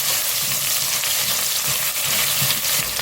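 Onions with cloves, mace and green chillies frying in oil for brinji rice, a loud continuous close sizzle with faint stirring throughout.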